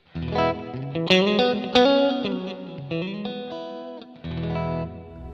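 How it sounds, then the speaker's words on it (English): Electric guitar chords and single notes ring out with a lush, shimmering plate reverb tail, briefly pausing before a final sustained chord. "I'm going to move to the plate reverb."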